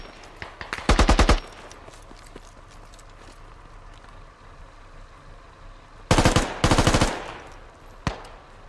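Automatic gunfire in a video game rips out in short rapid bursts, one early burst followed by two more close together and a lone shot, loud against a quiet background.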